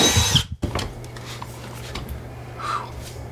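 A power drill bores a hole with a drill bit during bathroom supply plumbing work: a loud, close burst of whirring at the start, a sharp drop, then a steady low mechanical hum that continues to the end.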